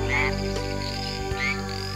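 Frogs croak in a steady, layered chorus with a couple of brighter calls rising above a constant low drone.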